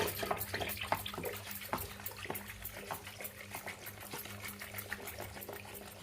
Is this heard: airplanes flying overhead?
no